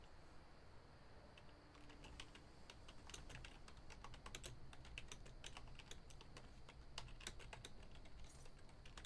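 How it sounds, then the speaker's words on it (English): Quiet, rapid clatter of typing on a computer keyboard, irregular bursts of key taps running for several seconds over faint background hum, with no talking. "sorry, I was typing"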